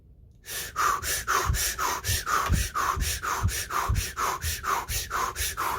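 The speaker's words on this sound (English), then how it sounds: "all I do is breathe like this" Rapid rhythmic breathing done as a technique before sleep: about a dozen quick, forceful, even-paced breaths, loud and close, carrying on steadily without a break.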